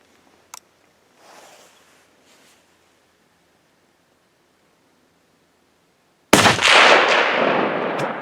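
A single loud rifle shot fired at a whitetail deer on an Alberta hunt cracks out after several quiet seconds of faint rustling, then rolls away in a long outdoor echo.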